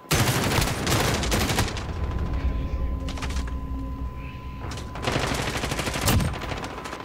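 Assault rifle gunfire from Call of Duty: Modern Warfare multiplayer, fired from the hip: loud rapid bursts at the start, then shorter bursts and a sharp single crack near the end over a steady game din.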